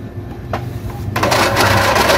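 An Epson L3110 inkjet printer prints a page. A soft background hum gives way to loud, close mechanical whirring and rattling partway through, which continues to the end.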